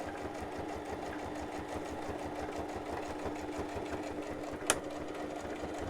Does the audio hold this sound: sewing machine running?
yes